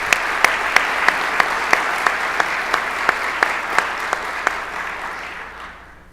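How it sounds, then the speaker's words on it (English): A conference audience gives a round of applause for the event organizers, a dense, steady clapping of many hands that fades out toward the end. "they deserve a round of applause this early on"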